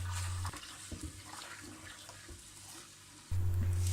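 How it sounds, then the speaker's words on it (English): Rice is washed in water, with steady sloshing and splashing close by and a louder running-water layer at the start and end, with no talking. "First you should wash the rice."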